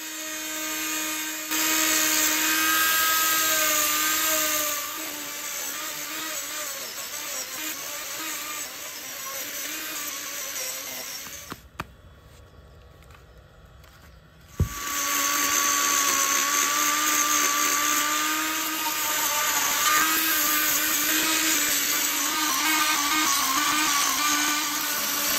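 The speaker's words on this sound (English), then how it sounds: "First thing was to get the Arbitech mini grinder and get a flat bottom." An Arbortech mini grinder carves a flat base into a cherry burr blank, a loud steady high-pitched whine that runs nearly the whole time, dropping out briefly midway before restarting at full strength.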